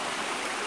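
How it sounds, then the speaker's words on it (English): A low-running river in English woodland at Greyfield Wood gives a brief, steady, even rush of flowing water with no other sounds. "And there's the river going down."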